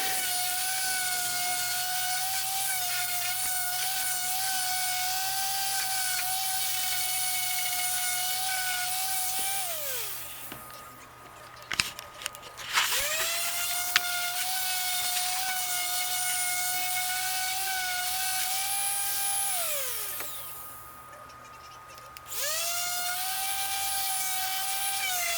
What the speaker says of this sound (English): Here we're sanding